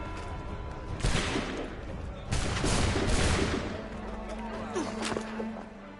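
Booming bursts of a gunfire volley ring out in Assassin's Creed 3, two heavy rumbling blasts about a second apart followed by lingering crackle and game noise.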